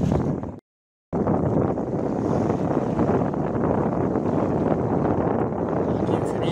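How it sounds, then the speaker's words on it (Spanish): Strong wind roars across the microphone aboard a solo sailboat at sea between Greece and Italy, a loud steady rush broken by a brief dropout early on. "el viento vuelve a rolar, esta vez al suroeste"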